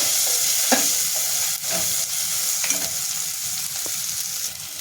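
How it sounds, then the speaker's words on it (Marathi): Goda masala, turmeric and asafoetida frying in oil and stirred, a loud bright sizzle with a few distinct scraping and tapping strokes of a spoon, close up, no speech. "गोडा मसाला एक चमचा मसाला थोडं हिंग टाकून घेते छान परतून घेऊयात आपण हे सगळं"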